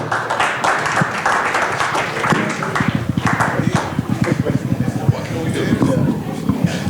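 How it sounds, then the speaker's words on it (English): Applause from a film panel audience swells into steady, rapid clapping that continues to the end, with a voice speaking over the start. "Welcome this panel with a warm applause."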